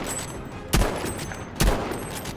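Two sharp, loud rifle shots spaced under a second apart, each with a short echoing tail over steady battle ambience, from sniping in Battlefield V.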